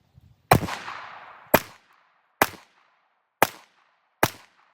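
Five sharp pistol shots from an RIA 5.0 firing CCI Blazer 115 grain ammunition, spaced roughly a second apart at an outdoor range, each a loud close crack with a brief decaying tail, the first ringing longer.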